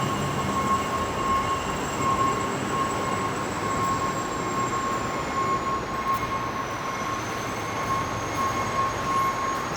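Trains inside Union Station in Toronto produce a steady, loud rumbling drone with a faint high whine and ringing tones. The sound holds continuously, with no talk.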